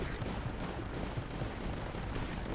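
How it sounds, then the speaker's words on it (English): Cruiser cannon fire in the tower-defense game Tower Dominion, a dense, continuous barrage of booming shots and blasts that runs steadily throughout with no pauses. "That cruiser cannon is doing damage."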